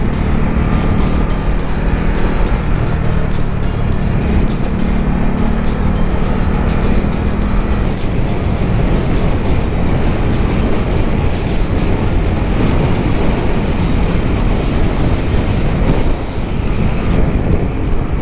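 A 2019 Ducati Supersport 950 on the move, its engine noise blended with heavy wind rush in a loud, continuous roar that holds steady for the whole stretch.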